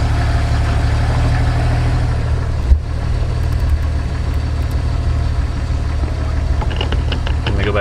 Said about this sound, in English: this is just idle in first gear